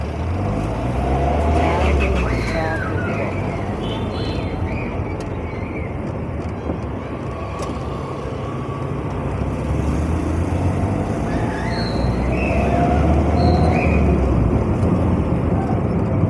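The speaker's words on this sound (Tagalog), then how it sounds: "Traffic dito, traffic." A car moves through busy road traffic in Davao City, a steady road and engine rumble with other vehicles passing and occasional faint horn-like tones, continuous and fairly loud.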